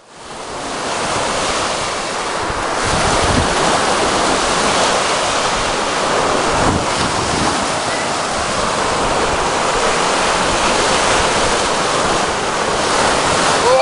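Ocean waves at the shore roar continuously and loudly up close, a dense rushing wash of surf with some wind buffeting the microphone, and no talk heard.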